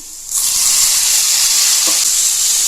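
Tomatoes, onion and garlic frying in a pan for chutney: a loud, steady hiss of sizzling starts suddenly and carries on, with one faint stir partway through.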